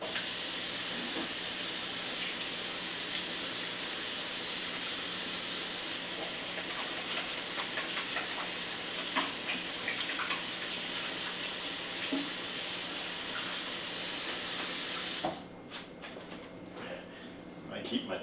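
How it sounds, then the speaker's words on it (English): Water from a kitchen tap runs steadily as hands are washed, a close broadband hiss that holds for about fifteen seconds, then cuts off and leaves faint handling noises. "I gotta wash my hands again."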